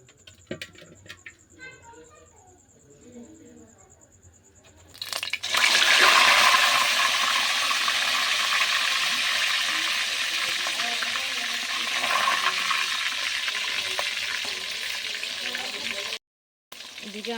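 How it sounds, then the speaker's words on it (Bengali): Chicken frying in a pan, a steady loud sizzle and crackle that starts abruptly and runs continuously, preceded by quieter kitchen clatter and briefly cut off near the end. "এদিকে আমি চিকেনটা এখন ফ্রাই করে নিচ্ছি, একদম লাল করে নেব।"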